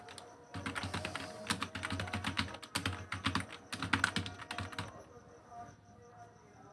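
Keys clatter steadily on a computer keyboard while text is entered in Microsoft Word, a run of close, brisk clicks with brief pauses that trails off toward the end.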